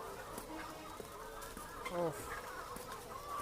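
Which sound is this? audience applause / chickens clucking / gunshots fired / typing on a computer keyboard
chickens clucking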